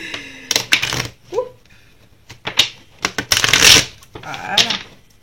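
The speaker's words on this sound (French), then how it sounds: "Allez, je bats un peu mes cartes." Tarot cards being shuffled by hand during a reading, in several quick riffling bursts with brief pauses between them, close and fairly crisp.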